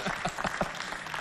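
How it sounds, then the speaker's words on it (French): Audience applause in a live Valentine's Day stage show, a steady spread of clapping heard at a moderate level and lasting the whole moment with no clear voice over it. "applaudissez pour l'homme en blanc"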